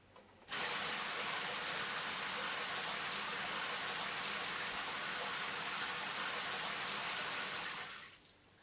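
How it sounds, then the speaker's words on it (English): A monsoon rain shower head runs steadily, its dense hissing spray starting abruptly, holding even and loud for about seven seconds, then cutting off. "in a 12 o'clock position, this will operate the monsoon rain shower"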